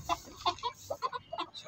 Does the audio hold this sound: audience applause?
no